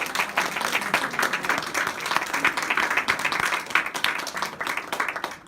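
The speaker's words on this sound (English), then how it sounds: "Let's give them another round of applause." Audience clapping at a fundraising luncheon in South San Francisco, a dense, sustained round of applause from a crowded room, fairly loud and continuous throughout.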